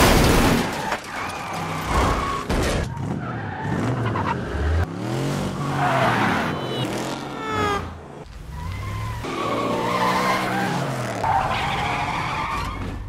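Action-film car chase with screeching tire skids and revving engines, several loud squeals sweeping up and down over a continuous roar of motors.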